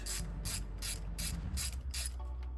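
A ratchet clicks in six quick bursts, close and crisp, while long intake bracket bolts are backed out on a 2008 Hyundai during an intake manifold install.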